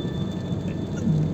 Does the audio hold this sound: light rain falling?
yes